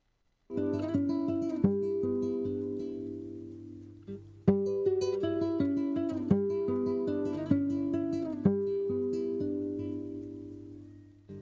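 A recording of the Chilean folk song "Te recuerdo, Amanda" plays steadily: a plucked guitar and sustained tones carry a gentle melody with no voices, at an even moderate level throughout.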